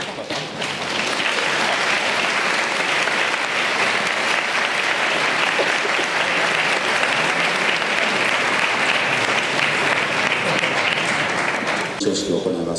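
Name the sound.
big round of applause for two students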